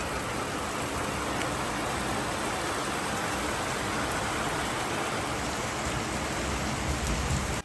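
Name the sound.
heavy downpour of rain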